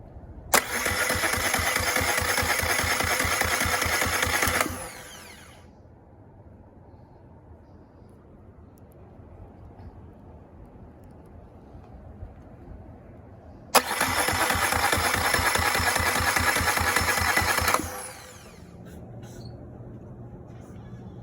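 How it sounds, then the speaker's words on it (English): A Suzuki 9.9hp outboard engine cranks on the starter in two bursts of about five seconds each, loud and steady, with a quieter stretch of low background noise between them. "Now we're gonna crank the engine 5 seconds at a time to relieve the pressure."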